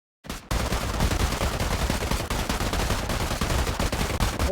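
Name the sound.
gunfire during firing training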